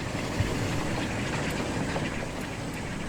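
A train in the video game Transport Fever 2 rumbles past with a steady, dense roar and faint rhythmic clatter, continuous throughout with no voices.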